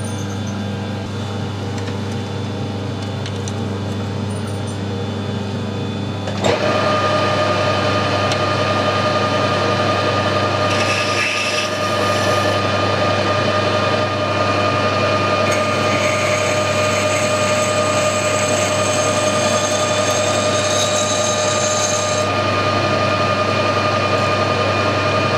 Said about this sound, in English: First thing I'll do is drill and tap this end